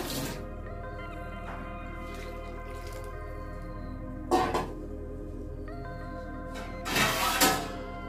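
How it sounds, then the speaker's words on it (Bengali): Water is poured into a pot of potatoes cooking for a prawn curry, giving two short splashing bursts over a steady low hum of simmering and kitchen background. "আলুগুলো যাতে সেদ্ধ হয় আমি আরেকটু জল দেব বন্ধুরা।"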